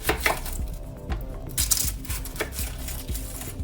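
A knife chops a red onion on a cutting board, a run of close, sharp, irregular taps with short pauses, with no talking.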